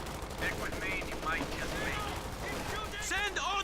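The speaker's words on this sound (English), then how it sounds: "MG34 they're firing away at the lieutenant" MG34 machine gun fire from the Company of Heroes 2 battle game, with short bursts and other gunfire in the mix, mostly under a commentator's talk.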